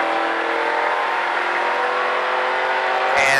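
A race car at a Richard Petty driving experience accelerates hard, its engine roaring loud and close in a steady sustained drone that swells slightly at the end.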